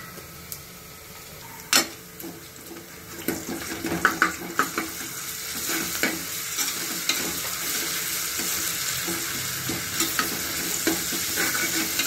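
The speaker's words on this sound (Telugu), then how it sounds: "వేగాక 2 స్పూన్ల అల్లం వెల్లుల్లి పేస్ట్ వేసుకోవాలి." Two spoons of ginger garlic paste fry in a cooker for chicken curry, a rising sizzle with bursts of spatula clatter and stirring scrapes, close and fairly loud, settling into a steady hiss.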